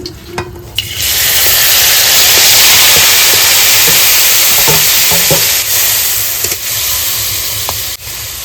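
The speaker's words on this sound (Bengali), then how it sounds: "কড়াইতে একটু সর্ষের তেল দিয়ে দেবো অল্প করে কটা কালো জিরে দিয়ে দেবো মাছগুলো দিয়ে দেবো" Loud, constant sizzling of fish hitting hot mustard oil with nigella seeds in a wok, a broad hiss with a few scraping clicks from stirring, no talking.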